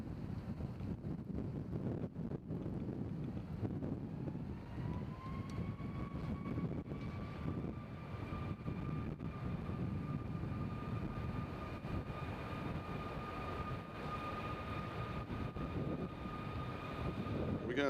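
Air Canada airliner at Nashville International Airport, its jet engine holding a steady, rising whine over broad rumbling wind noise, distant and continuous throughout.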